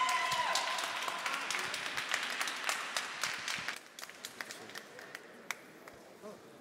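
Audience applause for a CPR competition team from Austria at a resuscitation event, a fairly faint wash of clapping that thins into scattered individual claps.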